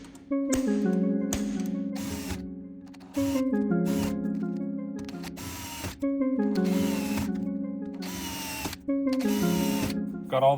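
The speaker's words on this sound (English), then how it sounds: "I'll Cleco those in, mark those holes, drill those." A power drill whirs in repeated bursts of several seconds each, drilling holes in aircraft parts on a RANS S-21 tailcone, separated by brief pauses, loud and close with a steady motor tone.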